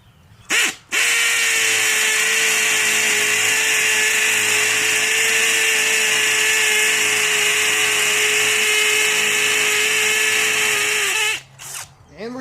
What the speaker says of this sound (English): I've got it on hammer mode in speed 2. It's the fast speed.